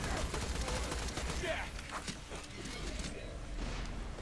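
Gunfire in the video game Borderlands 2 sounds as quiet, scattered bursts of shots beneath a steady wash of game ambience, with no clear single loud report.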